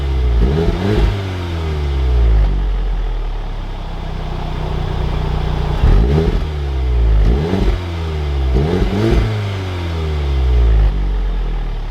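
A Volkswagen Golf R with 62,000 miles accelerates hard through several gears, each run a loud rising engine note cut by brief shift pauses, repeating about five times from inside the car.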